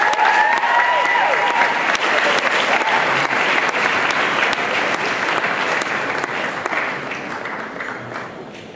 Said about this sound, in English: please give a round of applause for Sam